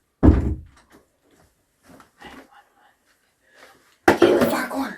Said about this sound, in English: I'm gonna lock and barricade the door.